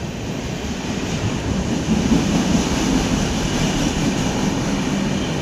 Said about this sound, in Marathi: थांब रे, जाऊ दे, ट्रेन जाऊ दे.